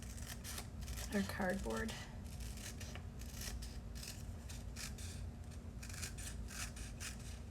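Scissors cut through a book page with soft, close snipping and rubbing strokes that repeat irregularly, while a person speaks briefly near the start.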